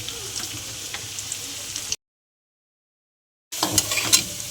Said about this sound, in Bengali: ঘুরিয়ে ঘুরিয়ে ভেজে নেব ভালো করে।